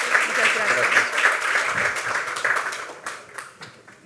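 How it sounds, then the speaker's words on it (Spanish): Audience applause at a technology event, a steady wash of clapping that fades toward the end, with faint voices underneath. "Un aplauso muy fuerte para Justina y para Andrea."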